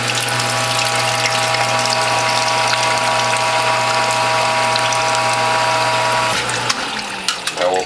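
A sugarcane juice press with a WHF front-loading feed tube runs with a loud, close, steady mechanical drone and ratcheting whir, then stops near the end, leaving a few light clicks and knocks.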